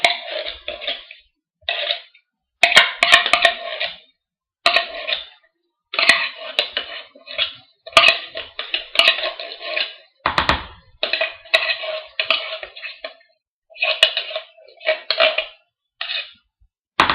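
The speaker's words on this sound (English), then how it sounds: "Now as you start to stir, the mixture starts to get pretty thick." A spoon stirs thick pumpkin bread batter made with canned pure pumpkin, scraping and knocking against the bowl in repeated close bursts separated by brief pauses.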